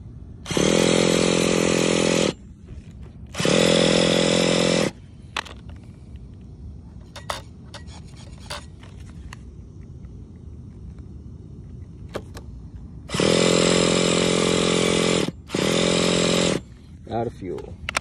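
A Traxxas 4-Tec nitro RC car with a 3.3 engine gives several loud, buzzing bursts of sound, two early and two late, separated by a quieter stretch of clicks and faint rattles, giving an uneven, stop-start pattern.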